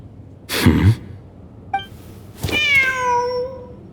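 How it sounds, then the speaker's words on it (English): A cat in Genshin Impact gives a clear, drawn-out meow after a soft rustling thump and a brief electronic blip, close and prominent against a quiet game background. "The cat!"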